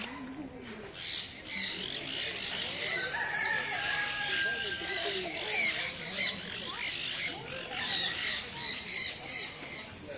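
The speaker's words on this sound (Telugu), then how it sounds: "ఇది ఒక రకమైన కోడే." A kind of chicken, likened to a country fowl, squawks and crows loudly and continuously, with several birds calling over one another and a person talking faintly underneath.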